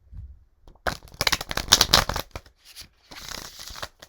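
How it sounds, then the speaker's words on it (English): Large tarot cards being shuffled by hand, a riffle of rapid papery flutters and slaps in a dense burst, then a looser second run of softer card rustling, close and fairly loud with no talk over it. "I'm also trying to get really good at shuffling."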